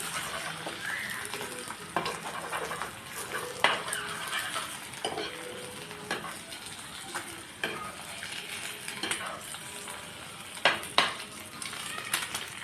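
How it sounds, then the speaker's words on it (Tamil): Egg omelette frying in a pan, a soft continuous sizzle broken by scattered scrapes and taps as a ladle flips it, close and alone. "இப்போ ஒரு கரண்டி வச்சு திருப்பி விட்டுக்கலாம்."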